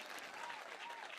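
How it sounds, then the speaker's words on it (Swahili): Crowd at an outdoor political rally in Kenya applauding steadily, a dense, continuous wash of clapping close by with no pauses across the short stretch. "Pigeni makofi."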